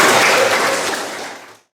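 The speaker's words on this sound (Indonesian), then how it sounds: "Oke, kasih aplaus ya." Classroom applause from a group of students during a peer-teaching session, a dense burst of clapping that fades away over a second or two.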